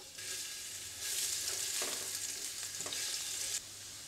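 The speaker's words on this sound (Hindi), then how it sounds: "अब हम इसमें लहसुन डालकर इसको फ्राई कर लेंगे।" Chopped garlic sizzles in two tablespoons of hot oil in a pan, a steady crackling hiss that swells louder partway through, with soft stirring scrapes and no voices.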